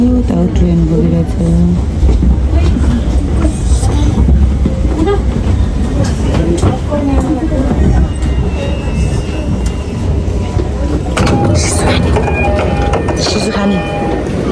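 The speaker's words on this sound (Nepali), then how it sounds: "यहाँबाट अन्डरग्राउन्ड पनि छ उता ट्रेन गइरहेछ" A train rumbles past at Ueno station in Tokyo, a loud, continuous rolling clatter with a rising screech near the end, while voices talk over it.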